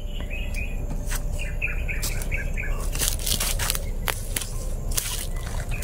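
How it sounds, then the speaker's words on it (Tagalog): Scattered bird chirps and tweets over a steady low rumble with occasional drips in a horror video game, as a large bird flies past, with no voices; the calls are short and intermittent. "May malaking ibon dumaan."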